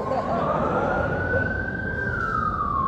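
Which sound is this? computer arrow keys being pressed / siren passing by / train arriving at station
siren passing by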